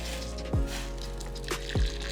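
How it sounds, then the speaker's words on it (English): Hot water poured from a container into a bowl of soapy makeup sponges, heard as two short splashing gushes a little over a second apart, each with a low sweeping burble, over a steady background hum. "I'm gonna go ahead and grab my water and just pour"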